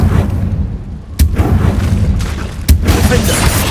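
In the Hogwarts Legacy video game, a Confringo blasting spell goes off in a cave as two sharp, heavy booms about a second and a half apart, over a constant rumbling game backdrop.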